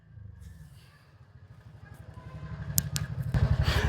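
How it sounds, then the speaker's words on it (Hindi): Passing scooters and motorbikes rumble in the background, their engine noise swelling louder toward the end with some clatter. "पीछे स्कूटर की आवाज़ आ रही है"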